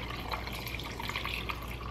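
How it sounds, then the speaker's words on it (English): Iced coffee is poured steadily into a glass, a continuous close splashing and trickling liquid stream without pause or speech. "you pour the coffee in."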